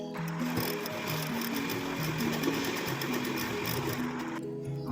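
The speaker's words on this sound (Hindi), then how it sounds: "सिलाई लगा लेनी" A sewing machine stitches the layered lining and fabric of a katori blouse, its steady rapid needle chatter running continuously and close up for nearly five seconds before stopping abruptly at the end.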